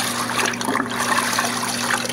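Water trickles and splashes steadily while rinsing an Arctic Cat snowmobile engine cylinder head in dirty wash water, a close continuous wet spray with a faint low hum beneath.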